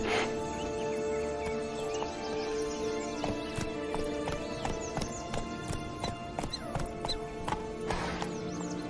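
Horse hooves clip-clopping in a steady trot in The Witcher 3, close and continuous, with a brief whinny and background game ambience under the rhythm.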